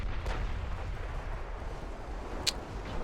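Secondary naval guns firing high-explosive shells in a battleship strategy game: a continuous low rumbling barrage with a couple of brief sharp reports, moderately loud, no talking.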